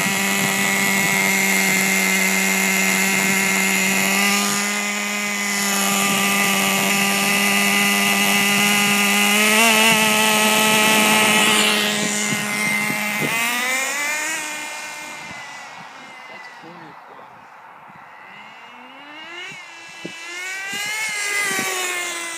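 RedCat Tornado S30 RC car spinning donuts, its high-pitched electric motor whining steadily, then dropping and rising in rapid pitch sweeps as it slides around, close and loud.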